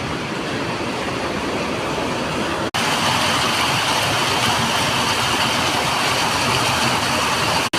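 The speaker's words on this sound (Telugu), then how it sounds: "మీరు ఇక్కడ చూసినట్లయితే భయంకరంగా వర్షం కురుస్తుంది" Heavy rain pours down in a dense, unbroken roar that stays loud and close throughout, with only a brief dropout partway through.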